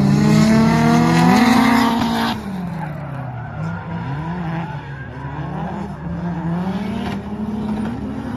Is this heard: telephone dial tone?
no